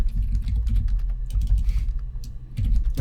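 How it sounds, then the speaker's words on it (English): Computer keyboard typing from the video game Her Story, a steady run of quick clicky keystrokes close up, with a low background hum and no voices. "Their typing is really upscale."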